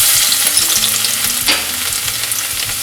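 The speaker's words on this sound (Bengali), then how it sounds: "এবার ওই তেলেই আমি কিছুটা পরিমাণ কুচনো আদা, বেশ কিছুটা রসুন" Chopped ginger and plenty of garlic hit hot oil for chili paneer, a loud, close, hissing sizzle with a spike of crackle midway and faint stirring scrapes underneath, no voices.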